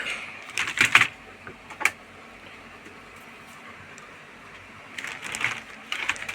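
Typing on a USB computer keyboard connected to a Dell Inspiron 15-3542 laptop under repair, with short bursts of clicky keystrokes near the start, a single tap mid-clip and another cluster toward the end, over quiet room hum.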